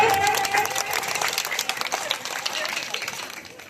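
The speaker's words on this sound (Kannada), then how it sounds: "ಜೋರ ಚಪ್ಪಾಳೆ" Loud, sustained applause from parents and guests at a government primary school anniversary celebration in Faarandahalli, KGF, a dense wash of clapping filling the whole stretch.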